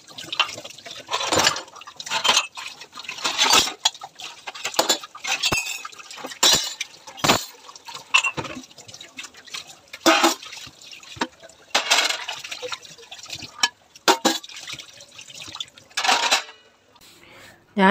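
Dishes and pots being washed in a home kitchen sink under running water, with repeated clinks and clatters of utensils over a steady splashing flow, close and moderately loud, no talk.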